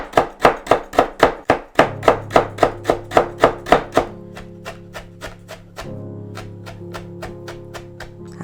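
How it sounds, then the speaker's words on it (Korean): Knife chopping through partly thawed squid on a cutting board, a steady run of about thirty sharp close knocks, loud and quick at first, then lighter and evenly spaced. "그때 이거를 이렇게 썰어주면 저절로 다 다진 게 돼버려"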